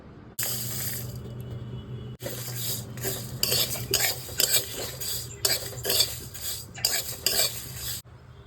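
Whole dry red chillies, cumin, fennel, panch phoron and coriander seeds are dry-roasted in a pan, giving a loud, continuous rustling, scraping rattle as they are tossed, broken by a few brief pauses.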